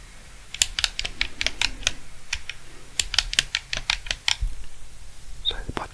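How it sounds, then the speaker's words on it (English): Plastic buttons on an Xbox 360 controller click in quick, crisp bursts, a rapid run of close taps followed by a short pause and a few more presses, with faint breathy whispering underneath. "the buttons have a very clicky, responsive and clicky"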